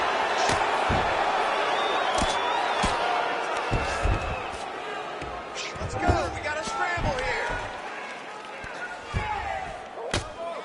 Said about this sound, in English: the crowd pops in appreciation as the fighters work their way back to the feet